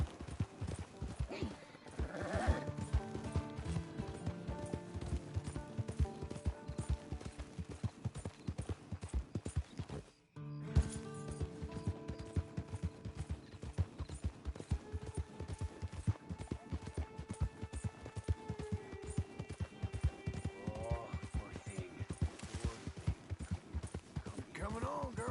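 Hoofbeats of a horse ridden through the Red Dead Redemption II video game, a steady clip-clop rhythm running throughout with occasional whinnies, mixed under music and someone speaking, with a brief cut near the middle.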